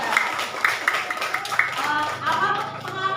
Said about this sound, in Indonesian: Tepuk tangan dulu untuk Randi ya.